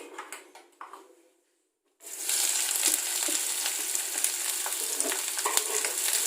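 Chopped onions for a samosa filling hit hot oil after a moment of quiet, bursting into a loud, steady sizzle that continues with small crackles and pops.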